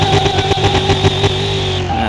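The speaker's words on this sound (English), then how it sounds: "As you can tell, it's got a pretty loud engine." A DeLorean engine revs loudly in the video game Car Mechanic Simulator 2021. The close, steady growl throbs with pulsing rasps for about two seconds.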